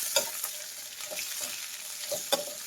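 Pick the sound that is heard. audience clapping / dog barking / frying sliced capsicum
frying sliced capsicum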